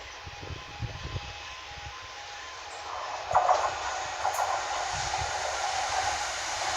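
GBRF Class 66 freight locomotive passing at Westerfield, a low diesel rumble and rolling wagon noise heard from trackside at moderate distance, swelling midway and continuing steadily.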